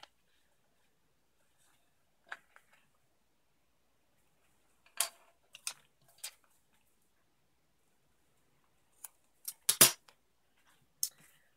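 Scissors snip through a placemat to round a corner, a handful of sharp, quiet cuts in small irregular clusters separated by silence, heard up close.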